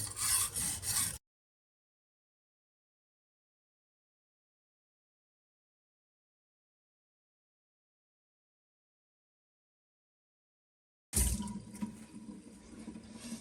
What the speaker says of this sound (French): Là on va être sur une pierre en 240 pour vraiment rattraper cette petite imperfection au bout.